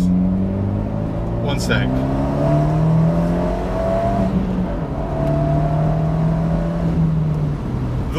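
An Abarth 124 GT with a Monza exhaust revs up and down in several rising and falling sweeps, close and fairly loud, with a brief spoken remark over the engine.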